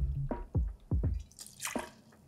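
Gin being poured for a classic Hanky Panky cocktail, heard as a few close liquid glugs and drips in quick succession, followed by a softer splash, with no talking.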